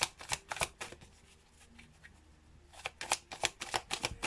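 Playing or tarot-style cards are shuffled during a card reading, rapid riffling bursts at the start and a longer flurry toward the end, close and crisp with a quieter gap between.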